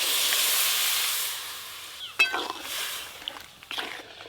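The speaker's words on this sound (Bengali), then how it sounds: "এবার ডাল ছকে দেবো।" Dal poured into a pan of fried onion greens hisses into a steady broadband sizzle that fades, followed by a sharp clatter and a few lighter knocks.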